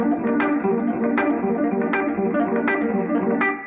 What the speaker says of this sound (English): Okay, so let's put these 2 things together so we have a longer arpeggio pattern.